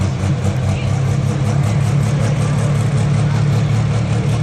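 A two-year-old, newly built pulling tractor at a truck and tractor pull at the Buck roars steadily, a heavy, loud, constant engine drone with deep low rumble, with an announcer talking over it.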